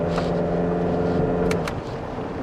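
Used sedan with about 100,000 km on the odometer accelerates along a straight road, a steady engine drone with road rumble heard from inside the cabin, no talk.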